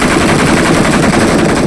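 Rapid automatic gunfire in the mobile battle game PUBG Mobile, a loud, dense rattle of shots running continuously for under two seconds.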